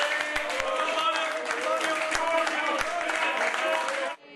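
Applause breaks out at the Lega party headquarters after a mayoral election win, sustained clapping from a room of people with voices mixed in, cutting off abruptly near the end.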